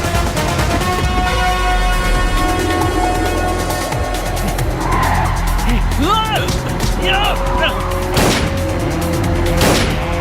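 Car racing at speed through a film chase scene, engine roaring and tires whooshing past, with sharp squeals and impacts near the end, all under tense music and shouted dialogue.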